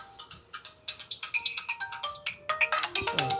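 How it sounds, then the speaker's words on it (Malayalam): A phone ringtone plays a repeating electronic melody in quick, regular pulses, moderately loud and with no talking. "ഫോൺ അടിക്കണ്ടല്ലോ, ആരാണ് നോക്കട്ടെ"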